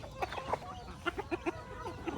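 A chicken clucks in a series of short, quick calls, fairly close, over a quiet background.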